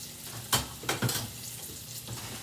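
Salmon frying in a pan for salmon Marsala, a soft continuous sizzle broken by a few louder pops and crackles, close and fairly quiet.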